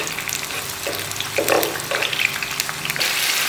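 Sliced onion hits hot mustard oil in a pan, giving a close, steady frying hiss with a few louder bursts as the pieces are stirred.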